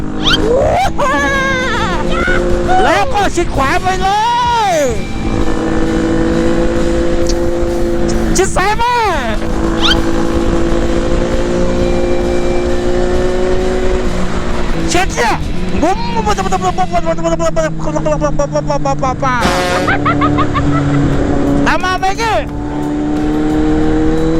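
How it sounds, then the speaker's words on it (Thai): A Yamaha MT15 motorcycle rides and weaves through traffic, its engine droning steadily and loudly throughout, with passing vehicles, horn-like tones and rising and falling pitch sweeps as it changes lanes. "ไบกี้กำลังหาช่องว่าง แล้วไบกี้ก็มุดซ้ายเข้าไปไบกี ้กำลังเล็งอยู่ ดูช่องว่างปุ๊บไบกี้มุดขวาเข้าไปจากนั้นก็เบี่ยงซ้าย"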